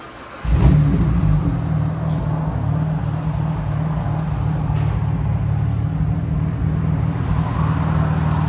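A 2008 BMW Z4 with a 3.0L inline-six and a muffler delete cranks and fires up, then settles into a loud, steady, rumbling idle close by.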